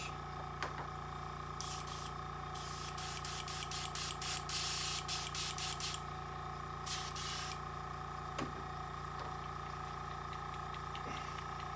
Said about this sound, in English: I've got AK gunmetal. I'm going to spray some of that on there.